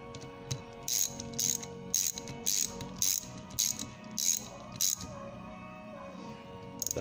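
A carburetor screw on a Holley Quadrajet being tightened, giving a run of quick rhythmic ratcheting clicks in regular bursts, close and fairly clear, then fading into a lighter mechanical rattle.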